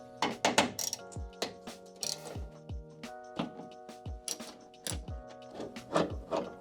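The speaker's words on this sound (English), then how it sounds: "there's 2 T30 screws or bolts right here that we have to remove" Mechanical ticking and clicking of a T30 screw being loosened from the trunk latch of a Mercedes W220 S-Class, with repeated short ratcheting bursts and soft knocks, close by with no talking.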